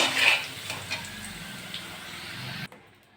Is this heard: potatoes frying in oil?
yes